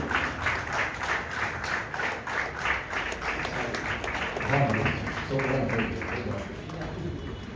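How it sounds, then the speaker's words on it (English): Applause for a new life member from Kottayam at an LIC Kottayam Division gathering: a steady patter of many hands clapping, moderately loud, with voices mixed in throughout. "Give me a thundering applause"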